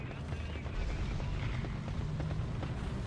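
Enemy tank shellfire in a World War II tank game set at Stalingrad, a Panzer III N under attack: dense, rumbling bursts and booms that roll on continuously, heavy in the low end, with no talking.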